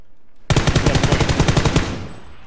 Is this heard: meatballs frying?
no